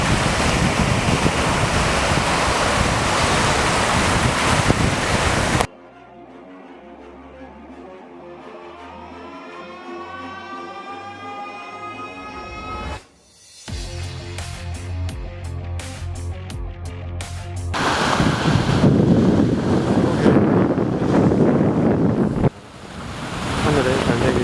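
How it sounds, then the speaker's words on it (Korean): Spring sea waves at Dadaepo beach in Busan wash in as a broad, steady roar mixed with wind buffeting the microphone, with a quieter stretch in the middle before the surf swells again. "시원한 파도소리."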